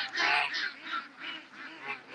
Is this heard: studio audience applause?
no